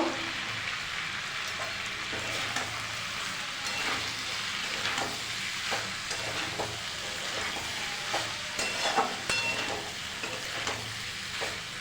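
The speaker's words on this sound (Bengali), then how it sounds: "পরিমাণ মতন সোয়া সস এক চামচের চা চামচ এবার ভালো করে নাড়াবো" Pasta stirred in a hot pan after soy sauce goes in, for a Bengali-style masala chicken, prawn and egg dish: a steady sizzle with scraping clicks and taps of the spoon, close and fairly loud, with no talking.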